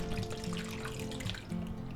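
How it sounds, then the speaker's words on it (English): Marinade poured into a plastic bag holding a pork loin, a steady liquid trickling and splashing sound that runs continuously throughout without a break. "Now all we have to do is add our marinade to the bag. Just pour that right in there."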